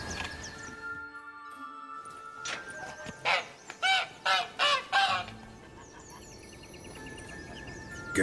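In The Witcher 3: Blood and Wine, a caged egg-laying bird honks in a quick burst of about six loud, goose-like calls over a quiet ambient game backdrop.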